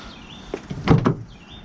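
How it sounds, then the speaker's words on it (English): A Mitsubishi Lancer Evolution X car door thumps shut nearby, followed by a quick mechanical clunk of the lock engaging, then quiet. "Let's close it. Lock it. Locks."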